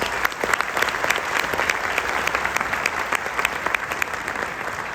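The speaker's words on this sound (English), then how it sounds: "So can we please give them a wonderful round of applause?" A concert audience at a spring wind ensemble performance claps for the players, a dense continuous applause with sharp individual claps standing out, sustained throughout at moderate level.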